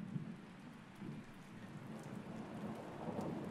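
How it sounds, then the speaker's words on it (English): Steady rain pours down in a constant hiss, soft and distant, with a low rumbling undertone running beneath it, in the video game Rain World. "It's raining."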